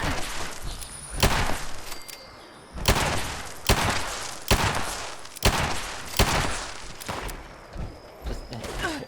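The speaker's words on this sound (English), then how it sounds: "Especially with the hair trigger receiver, just spamming 44 rounds." A .44 pistol with a quad hair trigger receiver in Fallout 76 fires about eight sharp, loud shots in quick but uneven succession, each one clear and close.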